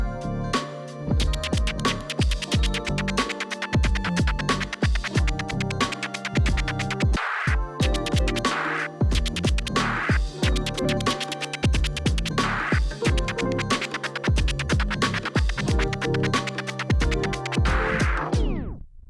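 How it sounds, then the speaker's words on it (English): Fast, loud turntable triplet chirp scratches layered over a driving beat, the strokes clustered in quick rhythmic bursts, continuing steadily with no voices. "Next up, we're going to be looking at the triplet chirp scratch."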